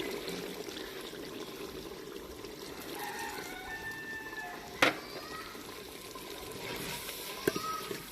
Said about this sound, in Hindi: अब हम इसमें डाल देंगे थोड़ा सा पानी।